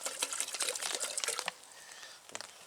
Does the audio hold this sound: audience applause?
no